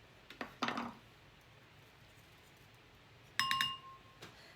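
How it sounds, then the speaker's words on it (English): A teaspoon clinks against a bowl while baking soda is mixed for a poultice, giving two short bursts of bright metallic ringing with quiet pauses between them and no voices. "I'm just gonna mix this up really nicely"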